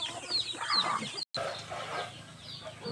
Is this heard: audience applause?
no